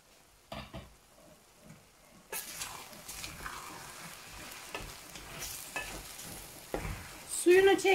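Kavak (poplar) mushrooms frying in a pan with salt, stirred in a rural kitchen: quiet soft sizzling at first, then a steady louder hiss with repeated scraping stirs, ending in a brief clatter.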